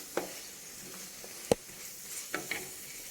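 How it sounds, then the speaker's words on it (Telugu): Green chillies, curry leaves and onions frying in oil make a faint background sizzle, broken by a handful of sharp clicks and taps from stirring at irregular moments, with no talk. "పచ్చిమిరపకాయ, కరివేపాకు, ఉల్లిగొందండి, ఇవన్నీ చక్కగా ఎర్రగా వేయించుకుందామండి."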